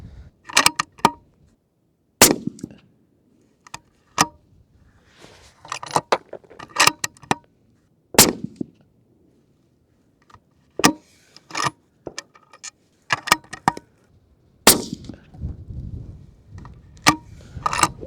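Rifle shots from a 6.5 PRC during load development at a shooting range, sharp loud cracks spaced irregularly with handling clatter and clicks between them, no talking.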